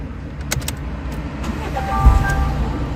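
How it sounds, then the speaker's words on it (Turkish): A car engine cranks and catches about two seconds in, after a few small metallic clicks of a key going into an ignition lock that had been sticking, then keeps idling with a low rumble close by. "Arabayı da çalıştırıyor."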